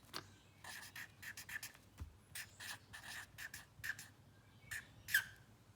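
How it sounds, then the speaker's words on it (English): Pen or pencil writing a word on paper, a series of short scratchy strokes in uneven bursts, close and fairly quiet with no talking. "So I'm going to write strawberry for number 3."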